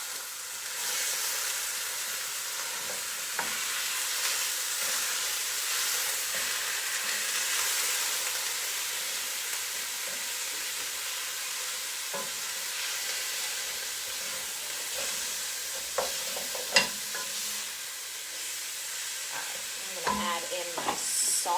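Cheesy beef goulash sizzles and hisses steadily in a pan for a long stretch while a utensil scrapes and stirs it, with occasional clinks and knocks growing busier toward the end.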